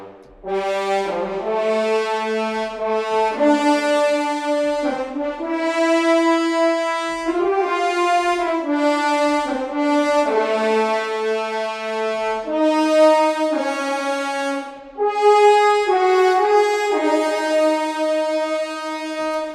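Sustained epic orchestral brass from the Phalanx Horns sample library plays a bold, cinematic melody with rich layered chords and phrases that swell and shift, loud and continuous with no talking.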